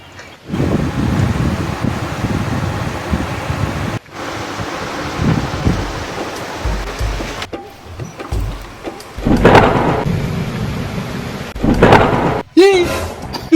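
Heavy rain pours down while deep thunder rumbles and cracks roll through, loud and close, with a few abrupt breaks in the storm noise.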